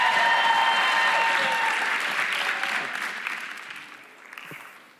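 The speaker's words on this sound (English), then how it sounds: "Thank you for the applause." Audience applause welcoming Dr. Kevin Nordby as chapel speaker, a full crowd clapping steadily and loudly, then gradually thinning and fading out over several seconds.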